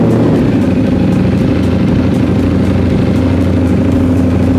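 A Ducati Streetfighter V4S motorcycle engine runs steadily throughout, a loud, close, continuous rumble with a fast even pulse and no talk over it.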